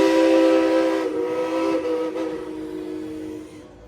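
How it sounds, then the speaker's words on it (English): The steam train whistle at Dollywood blows one long, loud, sustained blast close by, its tone wavering and then fading out over a few seconds. "They do at Dollywood, so they have both."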